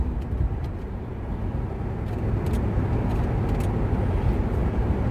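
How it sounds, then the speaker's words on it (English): A large truck moving through road traffic among buses, a steady low engine rumble and road noise filling the scene at constant loudness, with faint brief higher hisses like air brakes drifting in. "It's a large truck trying to get around these buses"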